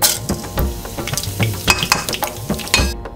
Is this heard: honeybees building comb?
no